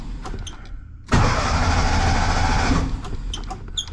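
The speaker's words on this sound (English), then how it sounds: "So I'm gonna turn the ignition again, push the clutch" A 1957 VW Bug engine cranks with the ignition turned, a loud, steady starter churn that begins abruptly after a quiet pause, runs for close to two seconds, then cuts off into faint ticking.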